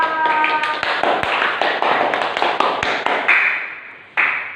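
Primary school class applauding in a classroom, a few seconds of close, busy clapping from many hands with scattered sharp individual claps, ending with a brief final flurry.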